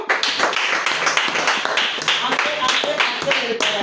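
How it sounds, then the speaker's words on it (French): A church congregation at a children's Sunday service claps in uneven bursts, the hand claps close and mixed with voices and brief talking over them. "Nous acclamons."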